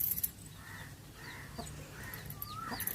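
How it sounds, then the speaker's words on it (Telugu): A hen gives faint, scattered clucks and short calls while climbing up to lay an egg, heard over low background noise outdoors. "అక్కడ కోడి చూడండి, గుడ్డు పెట్టుకోవడానికి అయితే పైకి ఎక్కుతుంది."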